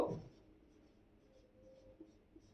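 A pen writing on paper, a short scratch at the start followed by faint light strokes and taps in a quiet room.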